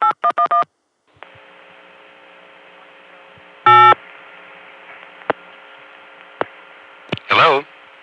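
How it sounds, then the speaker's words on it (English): Several short dialing tone bursts on a 1981 ConTelNet CCSA telephone network, then a steady line hum with isolated beeps and a longer warbling tone near the end. "That was somebody dialing 8."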